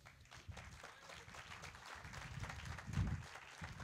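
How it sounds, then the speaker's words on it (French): Applause from the audience at a political conference, a quiet, dense patter of clapping that builds slightly toward the end, heard alone. "ils méritent d'être applaudis, on peut le faire d'ailleurs."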